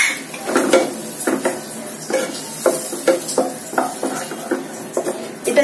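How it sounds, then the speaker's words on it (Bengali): Black cumin paste is stirred into frying spices for a Bengali fish curry, with a quick, rhythmic scrape of a spoon against the pan repeating over a soft sizzle. "কালো জিরে বাটা দিয়ে আমি কিন্তু বেশিক্ষণ কষাবো না"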